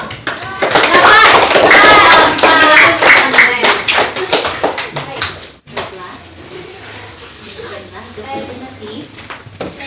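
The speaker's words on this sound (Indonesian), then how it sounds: "Beri aplaus untuk kelompok berapa?" Classroom applause for a student presentation group in a fifth-grade class, a dense burst of many hands clapping loudly for about five seconds before dying away into quieter room noise and scattered talk.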